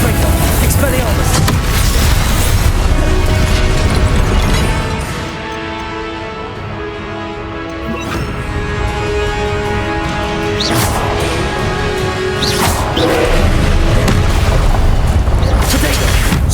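Spell blasts and explosions from Protego, Confringo and Expelliarmus duelling in the Hogwarts Legacy video game form a loud, dense run of booms and whooshing impacts, with a brief quieter lull midway before the barrage resumes, under a speaking voice.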